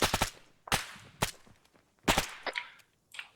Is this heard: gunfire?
yes